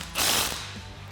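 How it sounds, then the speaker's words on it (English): A ratchet driving a 19mm socket tightens a nut on a Lange Hoist-A-Cart hoist handle for a Jeep Wrangler JL, giving one short, close burst of dense mechanical clicking. "tighten it down with that 19mm socket"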